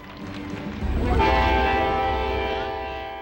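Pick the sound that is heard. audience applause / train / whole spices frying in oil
train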